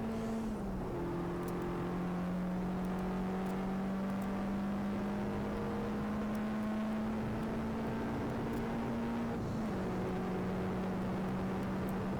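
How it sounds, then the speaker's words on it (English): A Peugeot 106 race car on Goodwood Motor Circuit holds a steady engine drone with a shifting tone as its tyres push for grip into a corner, loud and continuous throughout. "you can hear now from the tyres actually pushing the grip, especially in the entry to Lavant there"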